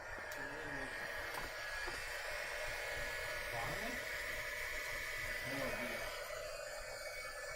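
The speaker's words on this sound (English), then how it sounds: "So I'm going to go ahead and take my heat gun." A heat gun blows hot air in a craft setting, a steady soft hiss of airflow running throughout at low volume while a voice is heard faintly underneath.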